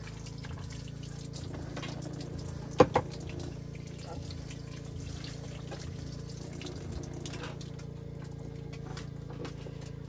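Water runs from a tap in an off-grid home while items are washed before opening, a faint steady flow under a low hum with a couple of brief clunks near the start.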